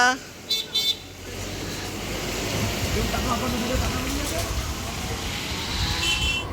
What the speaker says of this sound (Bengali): হালকা হালকা বৃষ্টি পড়ছে বৃষ্টির মধ্যেই যেতে হবে